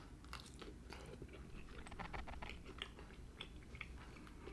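Someone bites into and chews smothered fried chicken with crispy skin, making close, wet crunching and chewing sounds in quick irregular bursts, fairly quiet, with no talking.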